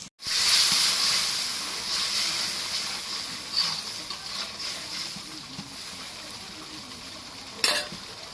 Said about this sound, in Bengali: এখন ওই মশলাটা এখন কষানি হচ্ছে